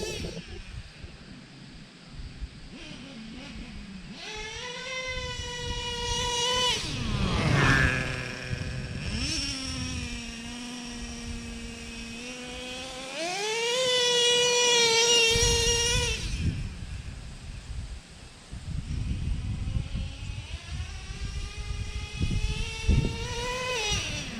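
Traxxas Revo 3.3 nitro RC truck engine winding up and shifting its two-speed gearbox, a loud buzzing whine that climbs, drops and climbs again in pitch over roughly twenty seconds.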